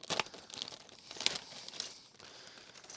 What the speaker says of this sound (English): we're ripping open pack 92